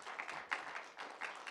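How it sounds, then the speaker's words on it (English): Audience applause for presenters at a college business idea pitch competition, a faint, brief patter of clapping from a room-sized crowd, uneven and thin. "Let's give one big round of applause to all the presenters."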